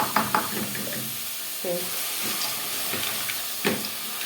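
Ghee sizzles in a pan while peas and carrots cook, a steady hiss throughout with a few faint clinks and rustles over it.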